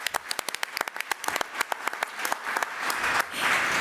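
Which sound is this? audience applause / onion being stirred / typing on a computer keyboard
audience applause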